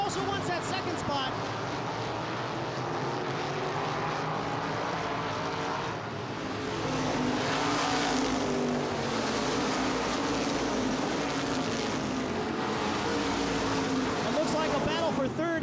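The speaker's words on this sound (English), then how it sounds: "The number 5 car, Greg Fullerton, trying to hold him off so he can hold the 3rd position" Modified race cars roar around Baer Field Speedway in an ICAR Top Speed Modifieds feature, engines droning loud and continuous with rising and falling tones as the pack runs, while an announcer talks over the noise throughout.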